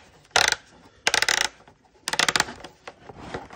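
A plastic fuel canister cap, bought as an emergency boat fuel supply, screwed on in three short bursts of sharp ratcheting clicks separated by brief pauses, close and distinct with no voices.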